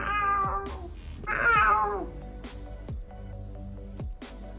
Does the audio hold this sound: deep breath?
no